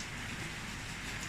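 Rain falling outdoors on a rainy afternoon, a steady, faint, even hiss of dense drops with no distinct rhythm and no talk.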